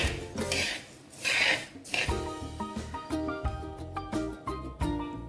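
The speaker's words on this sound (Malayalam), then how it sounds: "ഇനി ബാക്കിയുള്ളത് ഇതേപോലെ നമുക്ക് വറുത്തെടുക്കാം" Raw rice dry-roasted and stirred in a hot, heavy uruli pan for ariyunda sweets gives repeated rasping scrapes, loud and close, in uneven strokes throughout, with no talking.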